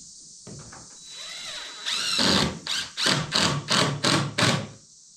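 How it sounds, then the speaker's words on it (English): A power drill drives screws into a wooden brooder box, starting with a slow whir and then five or six short, strained bursts of the motor in quick succession, loud and close over a steady high hum. "And then we're just gonna go ahead and screw it in, and then we'll flip it over."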